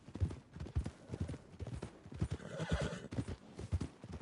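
Horses at a stable in the video game Red Dead Redemption 2, with steady hoof clip-clops and whinnies recurring throughout at moderate loudness and no talk over them.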